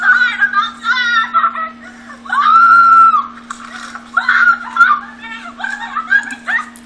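A woman shrieks and yells in long, strained bursts outdoors during a mental health episode, loud and close, with a steady electrical hum underneath.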